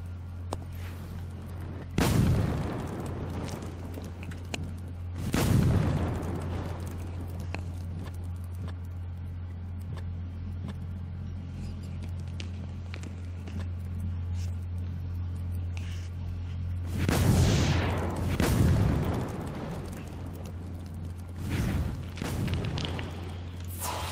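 Fire attacks on creatures in the Shadowgate VR video game land as several deep booming blasts, two early and a cluster later, over a constant low hum with no talk.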